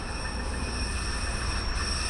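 A train creeps slowly into a northern German station and brakes, its wheels letting out a sustained high squeal over a low rumble, close by and with no talk.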